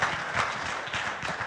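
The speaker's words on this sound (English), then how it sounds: "So please give her another round of applause." A convention audience applauds a presidential campaign speaker, a steady wash of many hands clapping at moderate distance, continuous and even for the whole stretch.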